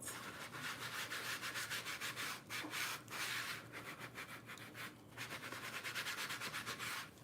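Paint dots are rubbed out on a plastic surface to make a stone texture, giving a soft, rapid, rhythmic scrubbing that runs almost continuously with a few short pauses. It stays quiet and close, with no talking.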